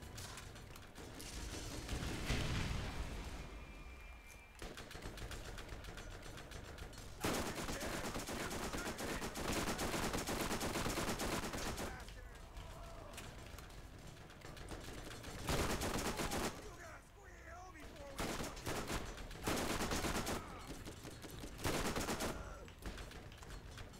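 A high-recoil gun in the video game Borderlands fires in repeated bursts of rapid shots, loud and close, broken by short pauses.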